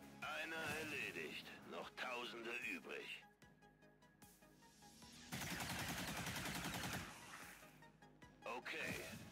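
Gunfire from the video game XCOM 2 breaks out in loud bursts, with a dense rapid volley in the middle, while someone talks over much of it.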